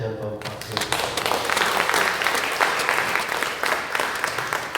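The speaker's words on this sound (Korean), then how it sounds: "김 박사님께 다시 한번 박수 주십시오" An audience at an indoor humanities lecture on the climate crisis applauds the lecturer with a burst of dense, sustained clapping that swells and holds for several seconds, close and loud.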